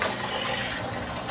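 Water pours from a pump setup in a hydroponic greenhouse, a steady, dense splashing gush that holds level throughout, close and alone.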